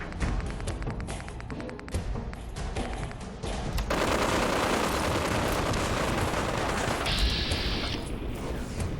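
Dense, sustained bursts of gunfire in the video game Fallout 4 crackle and pound continuously, loud and chaotic, with rapid shots blending into a constant barrage.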